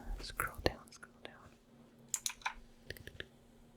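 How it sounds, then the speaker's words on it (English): Close, crisp keyboard typing in short bursts of clicks, with soft whispered talk in between. "My keyboard's so loud."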